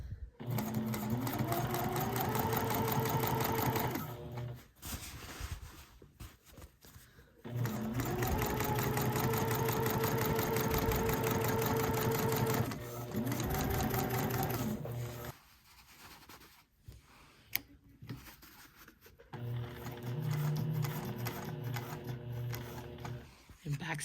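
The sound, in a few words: sewing machine stitching a zipper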